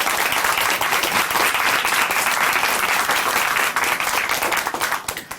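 A church audience gives big applause for a singer after her faith testimony, dense continuous clapping with some crowd noise that thins and fades toward the end.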